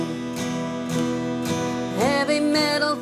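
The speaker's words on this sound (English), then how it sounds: "the easiest way to do that is to just do 4 down strums per chord" Electric guitar strummed in steady down strokes, four per chord, through the verse chords of a song, loud and close with one chord change partway, no voices.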